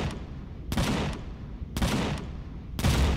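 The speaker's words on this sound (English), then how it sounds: "I gotta wonder what it's shooting at over there." Gunfire sounds from a game with an A-10 and tanks, heard as three loud, evenly spaced bursts of booming shots, each rolling into a rough, noisy tail over a constant background rumble.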